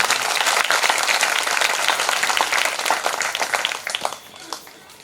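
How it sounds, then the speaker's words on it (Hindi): A village audience at a satsang in Aam Gaon, Chhattisgarh claps in welcome, the sound loud and dense at first, then thinning and fading toward the end. "आप लोग ताली बजाइए इनके अभिनंदन में"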